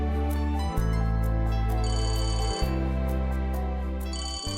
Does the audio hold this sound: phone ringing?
yes